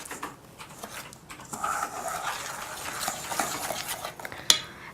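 Spoon stirs thick cookie batter of sugar, brown sugar and margarine in a bowl, a close, steady scraping and sloshing with a sharp clink of utensil against the bowl near the end, no talk.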